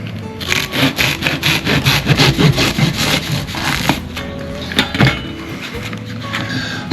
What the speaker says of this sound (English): we're just going to take our Japanese saw, or you can use a hacksaw, and we're going to cut through the foam